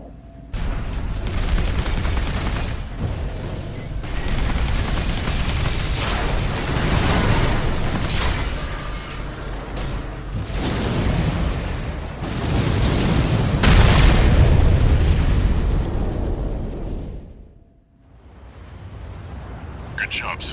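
A device exploding in a video game, with heavy rumbling booms and bursts that swell and fade over a long stretch, loud and dense, broken by a brief near-silent gap late on.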